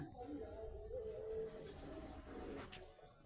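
Low, soft cooing from a breeding pair of Madras pigeons with young rolls along in a quiet, close setting, with a faint voice in the background.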